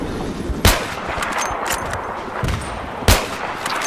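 Gunfire in the PS3 multiplayer shooter Battlefield 3: two sharp, loud shots stand out about two and a half seconds apart, with fainter shots and clatter running beneath a busy battle background.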